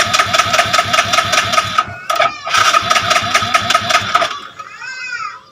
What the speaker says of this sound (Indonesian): itu di starter nggak mau hidup, di gas juga nggak mau hidup